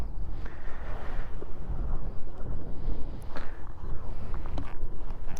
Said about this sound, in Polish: Trochę wieje dzisiaj.